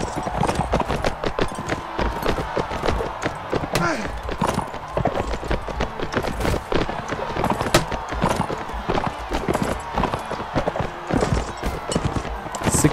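Horse hooves gallop in a video game: a fast, continuous, loud clip-clop rhythm with an occasional whinny and some voice in the mix.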